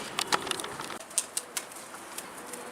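A pigeon flaps its wings in quick, irregular bursts of soft feathery whooshes and rustles as it is taken out, close by and fairly faint against a quiet background.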